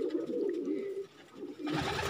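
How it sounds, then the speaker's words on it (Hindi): Pigeons coo softly in a loft, a low murmuring call held close by, before a burst of rustling noise near the end. "पहले हमारे कबूतर थोड़ा सा आपको दिखाता रहूँगा।"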